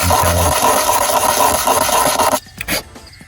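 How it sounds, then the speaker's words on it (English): A metal nut rubbed back and forth on sandpaper laid on a flat surface, cleaning oxidation off a Mk4 Volkswagen Jetta wiper part: a steady close rasping scrape that stops abruptly, followed by a couple of brief handling noises. "Take a piece of sandpaper and find a relatively flat surface, and you just take the nut and just do that a little bit"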